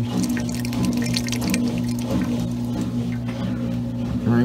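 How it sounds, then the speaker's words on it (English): Drain pipe of a Maytag washing machine gurgling as water drains down, with uneven watery pours and glugs close by and a steady low machine hum underneath. "So when the water is draining down, you can hear the drain pipe is gurgling."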